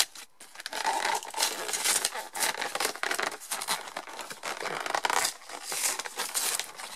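A packaged Pokémon card box is opened up close, with loud crinkling and tearing of plastic wrap and cardboard in irregular bursts, separated by brief quiet gaps.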